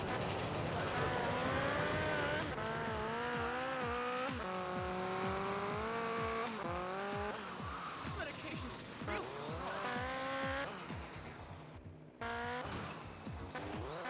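Vehicle engine noise from GTA Liberty City Stories on PS2, a continuous revving drone with rising and falling pitch sweeps as if gears shift, loud and steady throughout, with game effects mixed in.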